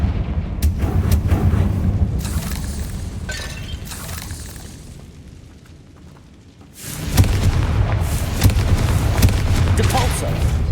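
Confringo blasting spells go off in Hogwarts Legacy combat as loud booming explosions with crackling debris, one burst early and a heavier blast about two-thirds through, under a spoken voice.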